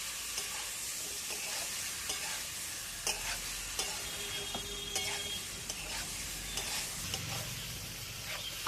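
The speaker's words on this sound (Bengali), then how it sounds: "এরপর দিয়ে দিচ্ছি সিদ্ধ করে রাখা আলু আর ইঁচড়। এবার আমি বেশ সুন্দর করে কষবো।" Boiled potato and green jackfruit are stirred into a thick spice paste in oil, producing a quiet, steady sizzle with repeated scraping and clinking of a spatula against the pan, and no voices.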